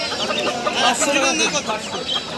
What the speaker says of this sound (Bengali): করকনাথ মুরগি